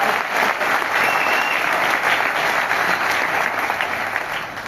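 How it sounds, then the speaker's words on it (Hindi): Loud, sustained applause from a large audience at a marketing meeting in Delhi, a dense, even roar of clapping that holds steady and tapers slightly at the end. "एक बार जोरदार तालियां हो जाए।"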